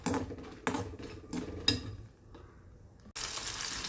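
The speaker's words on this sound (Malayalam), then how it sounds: "അതിലേക്ക് നമുക്ക് മുളക് ഇട്ട് കൊടുക്കാം കേട്ടോ" Six dried chillies drop into hot oil in a pan for a shrimp chutney, bringing several sharp crackling bursts and stirring clatters, then a quiet lull before a loud, steady sizzle takes over.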